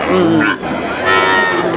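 Cattle moo at a livestock market, one loud drawn-out low that bends upward and then a second call right after, close by.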